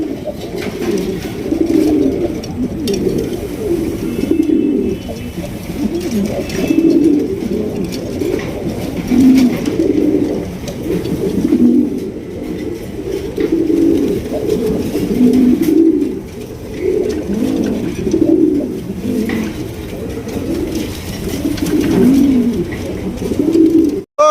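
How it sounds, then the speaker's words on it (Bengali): Pigeons coo steadily in soft, repeated low calls, several birds overlapping in a continuous, close murmur with no talking. "যেরকমের ডাক তেমন সাইজ এবং ডিম বাচ্চা করা কবুতর"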